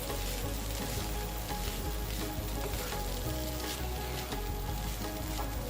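Egg fried rice with cabbage sizzles loudly and steadily in a hot pan as it is stirred, giving a dense, continuous frying hiss with faint scraping underneath and no talking.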